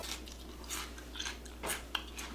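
Someone bites into an underripe, crunchy kiwi for a Japanese fruit sandwich, giving several soft, close crunching and chewing bursts at an uneven pace against a quiet room background.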